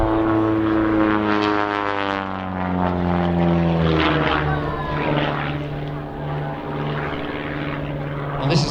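Pitts aerobatic biplane flying flick rolls at an airshow, its propeller engine droning steadily with clear rising and falling pitch sweeps as it maneuvers, while commentators talk over it.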